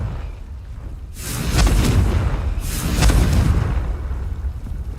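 Two booming blasts of the Confringo fire spell in Hogwarts Legacy, each a sudden loud burst with a rumbling tail, about a second and a half apart, no talk.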